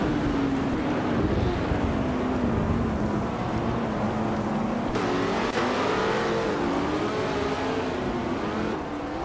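Race car engines in a racing video game drone steadily and loudly, pitch sliding up and down as cars accelerate and shift along a track, with a Lotus 70 from 1968 among the field; no one speaks.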